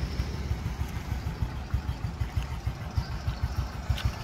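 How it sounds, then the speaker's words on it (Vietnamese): A white motorcycle with a large steel exhaust idles close by. A steady, rhythmic low putter runs evenly throughout with no one talking. "thích nghe cái tiếng bô của thằng lốc trắng này"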